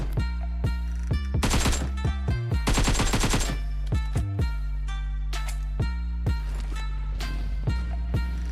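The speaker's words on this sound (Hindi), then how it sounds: "यहाँ से फायर की आवाज़ आ रही होती है" Loud automatic gunfire crackles in the PUBG Mobile battle game, with rapid bursts and single shots separated by short gaps, punchy and close with no talking.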